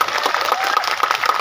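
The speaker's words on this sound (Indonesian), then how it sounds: "Tepuk tangan dulu dong buat Kasima" Audience applause at an Islamic religious gathering (pengajian) in Indonesia, a dense patter of clapping from a crowd, steady and close throughout with no pause.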